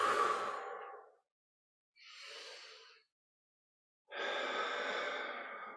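Three audible breaths during a gentle floor-based yoga practice, each a soft, airy whoosh with a pause between, the last exhale long and steady, close to the microphone with no talking.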